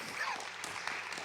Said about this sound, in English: We're going to be doing a lot of clapping all day,